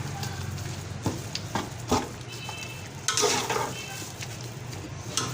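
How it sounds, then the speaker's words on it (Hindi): Minced meat with orchid tree buds and chopped green chillies being stirred in a pan, with a steady low sizzle and several sharp scrapes and clinks of a spoon against the metal, close and moderately loud. "अब इसको हम थोड़ा सा चला लेते हैं।"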